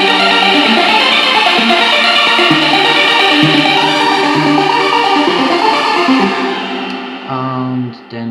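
Synth arpeggio part from a work-in-progress track plays alone, a dense, steady stream of bright repeating notes over layered harmonics, fading and thinning near the end.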